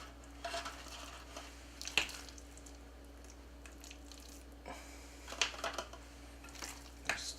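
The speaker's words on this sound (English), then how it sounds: "So then now we put the mixture in the loaf pan" Raw meatloaf mixture with breadcrumbs scooped a little at a time into a loaf pan, giving a few soft, scattered scrapes and clinks of utensil against pan over a steady low kitchen hum, with no talking.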